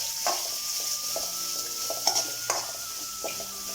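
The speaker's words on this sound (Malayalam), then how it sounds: "അപ്പോൾ നമുക്ക് ഇതിലേക്ക് ഇട്ട ഉള്ളി നന്നായിട്ടൊന്ന് ഫ്രൈ ചെയ്തെടുക്കാം." Onions frying in a pan while being stirred, a continuous gentle sizzle broken by regular spoon scrapes and light metallic taps against the pan, heard up close with no speech.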